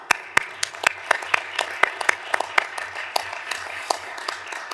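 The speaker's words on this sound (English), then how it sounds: "So a warm round of applause for our interpreters today." Scattered applause from the audience at a glass-recycling conference in Romania honours the interpreters. The claps are sparse and distinct, coming from a modest crowd at a moderate distance, with nobody speaking over them.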